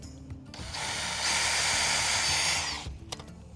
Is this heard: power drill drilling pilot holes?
yes